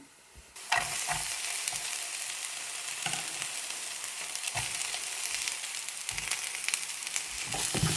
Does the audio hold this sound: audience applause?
no